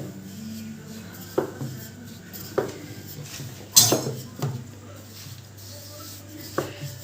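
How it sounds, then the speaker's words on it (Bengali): A rolling pin works radish-stuffed paratha dough on a board, with a soft rolling rub broken by sharp wooden knocks about every second or so, close and moderately loud. "এবার আমি একটু ময়দা ছড়িয়ে বেলবো খুব হালকা করে বেলতে হবে যাতে পুরটা না বেরিয়ে যায়"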